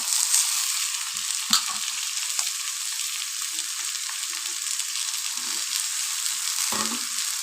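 Chopped onions with carrot and beans sauté in an oiled pan for wheat rava kichadi, giving a continuous bright sizzle with a few soft knocks and scrapes of stirring, close by and without speech.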